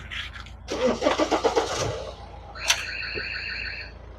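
A BMW E90 320d diesel, which had stalled while driving, cranks with a rapid rhythmic starter chatter for about a second, then catches and settles into a low idle, with a brief high electronic chime partway through.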